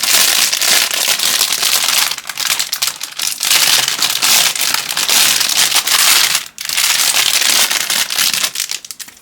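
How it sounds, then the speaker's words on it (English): A watch is unwrapped from crumpled newspaper, loud close crinkling and crackling paper with a few brief pauses, continuous for about nine seconds. "watch number 5 is wrapped up in some newspaper, very unceremoniously"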